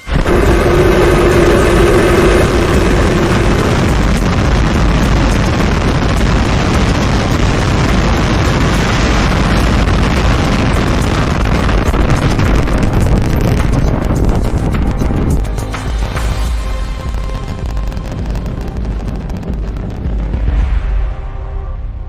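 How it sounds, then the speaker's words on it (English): A SpaceX Starship rocket lifts off with a loud, sustained, crackling roar that fills the air for about twenty seconds before gradually thinning and fading toward the end. "We have liftoff."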